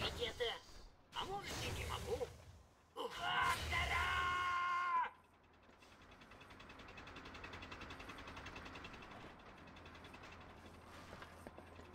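A boss monster in an online game lets out loud, drawn-out screams in several bursts over the first five seconds, followed by quieter rumbling game ambience with scattered clicks, while players talk.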